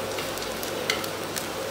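Grated coconut and spices fry in a pan for chana masala, a steady soft sizzle with occasional faint crackles and no talking.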